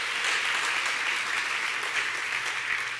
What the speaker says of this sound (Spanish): Dale un buen aplauso a Jesús.